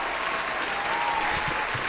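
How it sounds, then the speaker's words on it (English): Steady, dense applause from an audience filling the whole stretch at an even level, a crowd clapping together without pause after an inspirational speech. "That deserves an applause."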